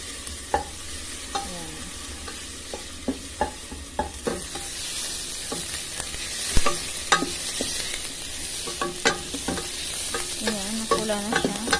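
Ground meat frying in oil for an Arabic-style macaroni laham, with a steady sizzle and repeated scraping stir strokes of a utensil against the pan, close and alone.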